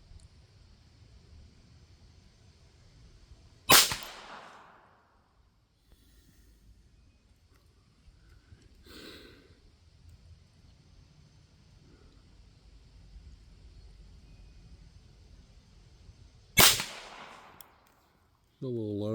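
Two single shots from a Beretta Model 102 .22 LR pistol fired from a pistol rest, sharp isolated cracks well apart over a faint background hum, each followed by a short decaying tail.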